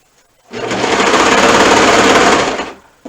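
A sewing machine runs a shoulder seam in one loud, close burst of about two seconds, a dense rapid whir that starts and stops abruptly.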